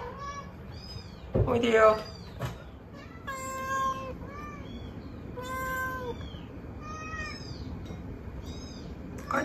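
Tiny rescued newborn kittens, a few days old, mew repeatedly in high, thin cries at close range, with someone speaking softly over them and a brief handling rustle near the start.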